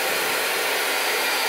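A hair dryer runs steadily and fairly loud for the whole stretch, a continuous airy whoosh with no voices over it.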